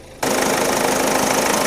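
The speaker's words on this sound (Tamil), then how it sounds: "இன்ஜின் பீட்டு டீசலுக்கு இப்படி தான் இருக்கணும்." A Ford EcoSport diesel engine starts up abruptly and settles into a steady, loud idle with a close, even knocking clatter and no voices.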